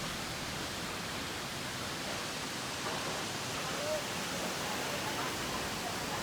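The Vasudhara waterfall near Badrinath in the Himalayas roars as a steady, broad hiss of falling water, loud and even throughout, with a voice talking faintly beneath it.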